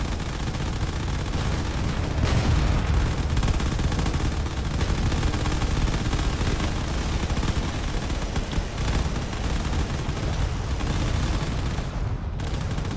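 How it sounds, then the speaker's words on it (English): Gunfire from video game frigates pounding defensive turrets at close range in a space battle, a dense continuous barrage of rapid shots and blasts with no pauses, loud throughout. "These frigates are just using the opportunity to fire at all these turrets at close range."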